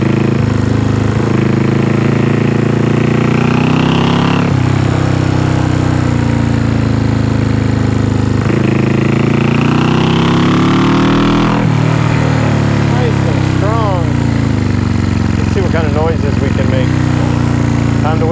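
A 1974 Honda CB360 motorcycle engine running at its first start after a restoration, a steady low idle with several rev rises and falls across the clip, close by, with a voice talking over it.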